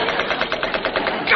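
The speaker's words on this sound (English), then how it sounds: "I rushed to the bridge, manned the machine gun, and began firing at the enemy aircraft." A machine gun fires in rapid, even bursts aboard a submarine in a TV sitcom scene, a continuous rattling stutter of quick repeated shots, loud and close, ending abruptly.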